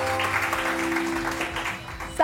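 A studio audience on a TV morning show claps for a guest, a short burst of applause under a musical backdrop with a voice faintly present.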